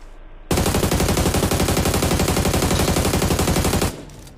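A long burst of rapid automatic gunfire in a battle royale video game, loud and close, running unbroken for about three and a half seconds before cutting off abruptly.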